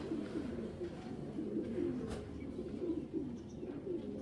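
A young racing pigeon cooing in low, rolling repeated phrases, steady and close, with faint background noise and no talk.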